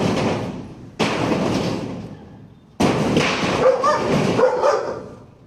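A dog barks on command in loud, harsh outbursts, a first burst followed by a longer run of rough barks and thuds, close and strong.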